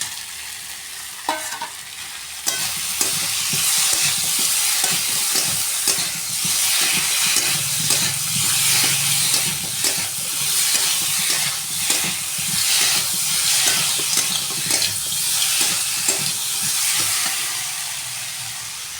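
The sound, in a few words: crab frying with spiced potatoes in a pan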